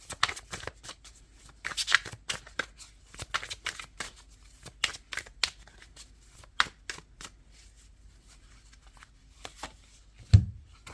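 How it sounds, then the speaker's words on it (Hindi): Tarot cards being shuffled and drawn during a reading: a close, crisp run of riffling flicks and papery snaps, steady through the clip, with one louder thud near the end and no talking. "मैं एक कार्ड और निकालूंगी थॉट्स को लेके।"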